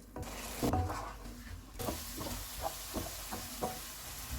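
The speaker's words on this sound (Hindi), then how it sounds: "चूल्हे को मीडियम रखेंगे और इसको ऑयल अलग होने तक भूनेंगे" Cumin powder and spices for mash daal sizzle in hot oil over medium heat while a utensil scrapes and stirs the pan in slow, repeated strokes, close and fairly quiet.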